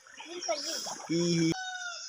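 Birds call in a tangle of warbling, chirping tones in a village in the morning, then a rooster's crow stands out briefly, loud and close, before the calls carry on.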